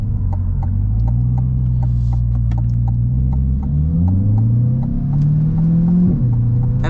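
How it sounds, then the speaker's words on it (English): A C8 Corvette Z51 with its engine in track mode rumbles loudly while driving slowly, a steady deep drone that rises and falls in pitch as the revs change. "So the car sounds amazing."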